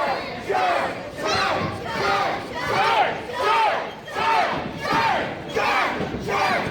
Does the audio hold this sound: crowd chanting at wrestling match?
yes